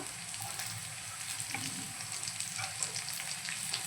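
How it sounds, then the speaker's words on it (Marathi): Slices of elephant foot yam fry in a pan with a steady, quiet sizzle and soft crackle throughout, with a few faint taps as the pieces are handled. "आता आपण फिरवून दुसरी साइडनेही फ्राय करून घेऊया"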